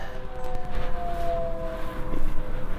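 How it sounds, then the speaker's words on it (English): Tornado warning sirens wail from a distance in Kit Carson, Colorado, a long sustained tone carrying over low wind rumble during a storm. "You might be able to hear the sirens going off behind me."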